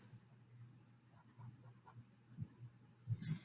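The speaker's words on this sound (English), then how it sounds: "now I'm going to erase this extra little piece" Pencil erasing on paper while working on a Wayne Thiebaud-style cake drawing; soft, faint rubbing strokes come in short bursts, growing a little louder and scratchier near the end.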